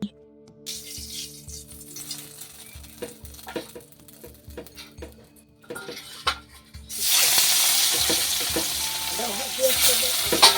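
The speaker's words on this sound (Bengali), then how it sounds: "আগে মাছটা ভাজা করে নিই" Rohu fish fries in oil in a wok after some clinks and rattles of utensils. Partway through, a loud, dense sizzle erupts and keeps going, close by, over a faint steady hum.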